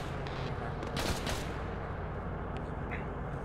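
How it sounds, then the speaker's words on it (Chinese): A firefight in the video game Arma 3 around a town, with a dense burst of gunfire near the middle against a steady background of rumble and scattered distant shots. "跟敌军交火。"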